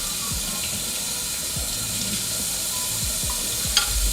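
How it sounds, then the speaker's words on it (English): Portobello mushrooms rinsed under running kitchen water, a steady close hiss of flowing water with a few soft low knocks throughout. "Just go rinse off your mushrooms"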